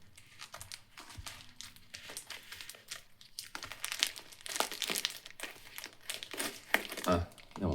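Plastic packaging from a Firmoo glasses order crinkles and rustles up close, with busy bursts of handling and tearing that grow louder toward the end.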